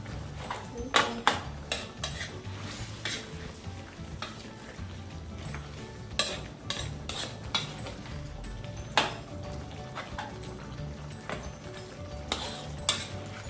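A metal utensil stirs chicken afritada with tomato paste in a pan, giving repeated close clinks and scrapes against the pan over a low, steady cooking hum with no talking.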